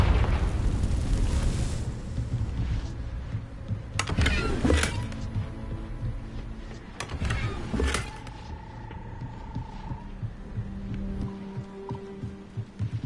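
Confringo fire spell blasts in the video game Hogwarts Legacy, two sharp explosive bursts a few seconds apart over a rumbling game soundscape, followed by quieter tones and ambience.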